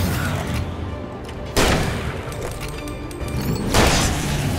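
Shotgun blasts in the horror action game Alan Wake ring out as a few loud sharp booms spaced seconds apart over a dense, noisy game soundscape.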